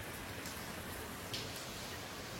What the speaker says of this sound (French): C'est de la grêle ou c'est de la pluie?